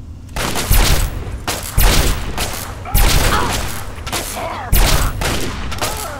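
Repeated bursts of gunfire in Fallout 3, loud and close, with heavy booming shots arriving in clusters roughly every second and a half, and a voice talking faintly underneath.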